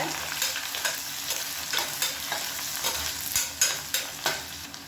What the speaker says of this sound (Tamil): வெங்காயம் நல்லா ப்ரௌன் கலரில் வதங்கணும்.